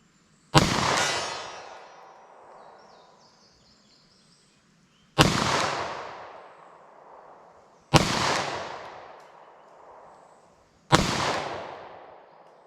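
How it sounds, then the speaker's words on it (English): Four loud, sharp .327 Federal Magnum pistol shots fired at a distant target, spaced irregularly several seconds apart, each with a sharp crack followed by a long echoing decay outdoors. "I'm not used to shooting that pistol at that distance, so I was not able to hit. 327 Federal Magnum though."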